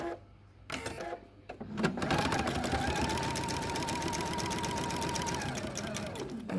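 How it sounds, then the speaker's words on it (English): A sewing machine stitches quilt pieces for a bordered Monkey Wrench quilt block along a quarter-inch seam. After a few brief starts, it settles into a fast, steady, close whirring run that lasts to the end. "now I'm going to sew right along the right edge at a 1/4 inch"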